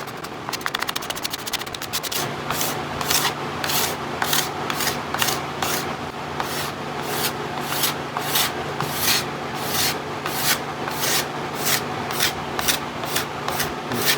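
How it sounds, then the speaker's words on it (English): A hand scraper stripping old, powdery finish from the wood of a late 19th-century two-tier dumbwaiter: quick raspy scrapes at first, then a steady rhythm of about a dozen close, evenly spaced strokes over a background hum. "Here I've decided to use a scraper since the finish was just about powdered anyway,"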